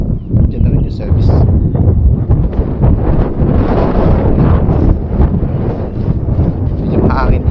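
Wind buffets the microphone with a steady low rumble throughout, loud and close, with faint rustling on top.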